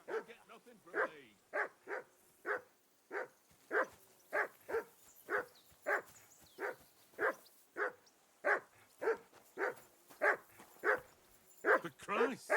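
A dog in the medieval video game Kingdom Come: Deliverance 2 barks steadily, about twenty evenly spaced woofs near and fairly loud, with a little whimpering at the start.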